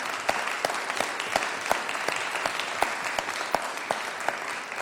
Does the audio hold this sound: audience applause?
yes